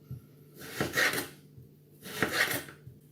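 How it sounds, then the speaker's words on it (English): A sharp knife slices through part-frozen cauliflower on a board, two distinct crunchy cuts about a second apart, close and fairly clear with no talk. "So you just take a really sharp knife and it's so easy to cut it"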